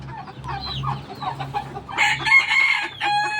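Turkeys in their pen inside a small farm house cluck and call loudly at close range in a quick series of short, bright squawks that grow into a longer strained cry near the end.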